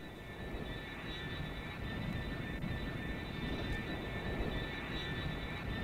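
An airplane engine drones steadily at moderate distance, a constant hum with a high whine riding over it, with no talking.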